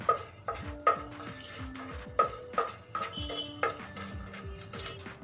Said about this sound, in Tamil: நட்சத்திரம் கிராம்பு சோம்பு எல்லாத்தையும் சேர்த்துங்க சேர்த்து நல்லா வதக்கி விடுங்க